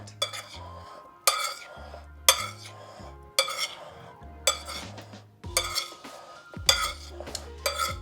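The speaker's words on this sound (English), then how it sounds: "stir them up, just so they have a really nice coat over all of them" Warm potatoes stirred in a bowl to coat them, a spoon scraping and clinking against the bowl in repeated strokes about once a second, close and clear, with faint quiet speech.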